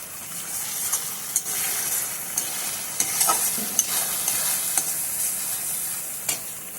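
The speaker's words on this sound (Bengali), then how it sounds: "দিয়ে ভালো করে নেড়ে চেড়ে আমি ডিমের সঙ্গে মশলার সাথে ভালো করে মিশিয়ে নেব।" Fried eggs are stirred into a sizzling masala curry in a pan, a bright continuous frying hiss punctuated by sharp spoon scrapes and clicks against the pan, close and alone without talk.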